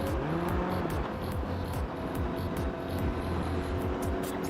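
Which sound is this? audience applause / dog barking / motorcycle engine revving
motorcycle engine revving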